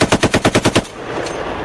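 A Browning M2 .50 caliber machine gun fires a rapid, loud burst of about seven evenly spaced heavy shots, followed by a ringing, rumbling echo that lingers after the burst stops.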